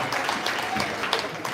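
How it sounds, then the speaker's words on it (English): A convention audience at the 2024 NUP diaspora gathering in Chicago applauds and claps: dense, continuous clapping from many hands, even in loudness throughout. "Please give them a big hand clap."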